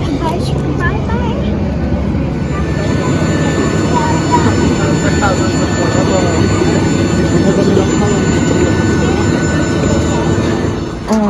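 A jet airplane engine roars steadily and loudly, a constant rumbling drone with a high whine over it, lasting throughout.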